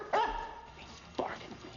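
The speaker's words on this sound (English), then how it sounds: "German shepherd starts barking." A German shepherd barks twice, about a second apart, two sharp, fairly close barks over a quiet background.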